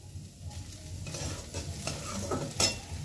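Onions being stirred as they fry in a pan at home while potato paratha is made, a steady close sizzle with soft scraping strokes of the stirring utensil and no talk.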